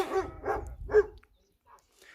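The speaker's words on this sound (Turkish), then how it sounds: "Köpekler yabancıya havlamak zorundalar." A dog barks three times in quick succession, fairly close, and then everything falls quiet.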